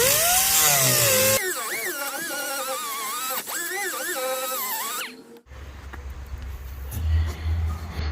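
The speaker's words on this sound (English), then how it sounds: "It's taking the grinder and just kind of going back and forth here." An angle grinder works back and forth on the gas tank shield of a GMC Sierra or Chevy truck, whining loudly with wavering pitch, then cutting off abruptly near five seconds, leaving low rumbling noise.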